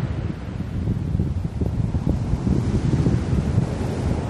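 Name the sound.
three-metre sea waves crashing on the shore with wind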